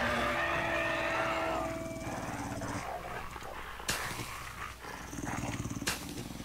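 Several dogs in the 7 Days to Die video game give low, continuous growls over a steady rumbling game background, with no talking.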